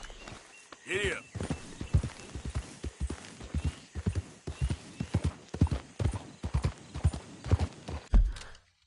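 A horse gallops in the video game Red Dead Redemption 2, with close, rhythmic hoofbeats pounding steadily, a short whinny near the start and a voice briefly over the hooves.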